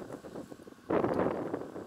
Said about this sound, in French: il bouge pas beaucoup, il y a du vent